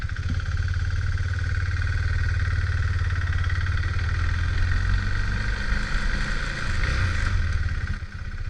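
A Husqvarna 401 motorcycle sits idling in neutral at a red light, its engine giving a steady, close, loud thrum that holds even for the whole stretch with no talking.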